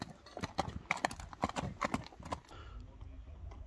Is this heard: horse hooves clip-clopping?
yes